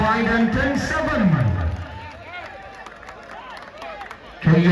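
A stadium crowd at a volleyball match clapping and cheering under a commentator's excited voice, with the crowd noise swelling again near the end.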